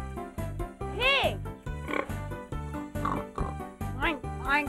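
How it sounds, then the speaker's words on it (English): A pig oinks in a children's listening game, with repeated grunting calls set against a steady, bouncy musical backing rhythm. "Pig."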